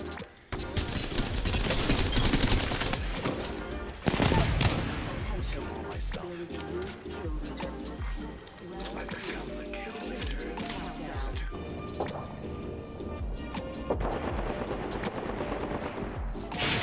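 Pistol gunfire in the video game Apex, dense loud bursts of shots and impacts running throughout, with speech in the background.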